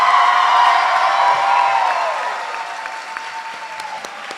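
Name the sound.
audience applause and cheering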